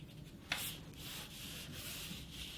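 A paintbrush dabs watercolour onto paper while painting teddy bear fur, very faint soft scratchy strokes with a light tap near the start, close and quiet.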